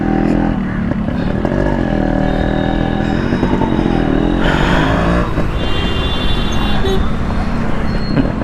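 A new Yamaha RX100 motorcycle fitted with Pulsar disc brakes rides along a road, a loud, constant engine drone merged with heavy wind rush and passing traffic, the pitch shifting slightly as it goes.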